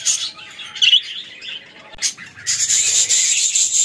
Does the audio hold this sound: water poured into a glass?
no